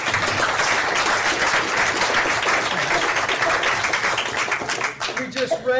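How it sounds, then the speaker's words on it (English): Loud, sustained audience applause at a recovery support group meeting, dense clapping from a roomful of people that fades slightly with a voice emerging at the very end. "Give her a round of applause"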